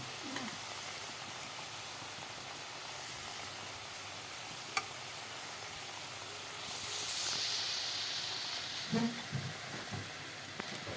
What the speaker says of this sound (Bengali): আলুগুলো আরও কিছু সময় লাল লাল করে ভেজে নেব